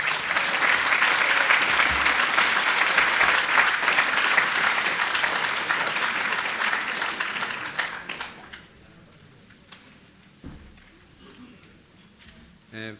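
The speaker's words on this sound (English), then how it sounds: "So I just actually ask you to give him a big round of applause" An audience at a 2013 professional association AGM gives a presenter a loud, sustained round of clapping for about eight seconds, which then fades away into quiet room sound and a few stray noises.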